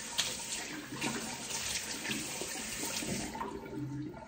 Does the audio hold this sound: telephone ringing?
no